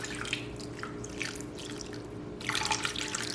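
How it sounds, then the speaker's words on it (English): About a cup of water poured into a crockpot for pork enchiladas in green chili sauce, a steady close splash and trickle that swells louder near the end, with no talking. "I am going to put a cup of water, about a cup of water in this,"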